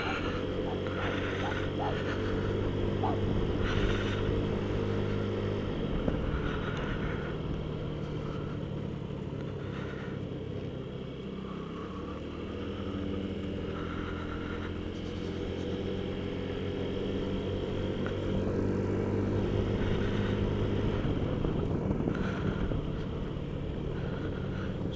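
A 2007 Honda Ruckus 49cc scooter engine drones steadily during a ride on a gravel-strewn road, a continuous mid-pitched hum with slight shifts in pitch, fairly faint and close throughout.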